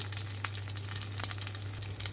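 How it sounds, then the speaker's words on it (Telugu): Tempering seeds, dried red chillies and curry leaves fry in hot oil with a quiet, continuous crackle of tiny pops. A low steady hum runs underneath. "తాలింపు అంతా వేగేటప్పుడే నాలుగు నక్కలు కరివేపాకు కూడా వేస్తున్నాను"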